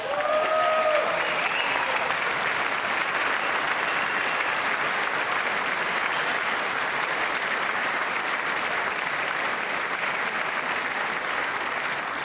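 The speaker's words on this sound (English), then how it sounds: "I wasn't sure if anybody even on this side was going to applaud for that." Sustained, loud applause from a large audience in the House chamber during the 2025 State of the Union address, a dense steady clatter of clapping that fills the whole stretch without letting up.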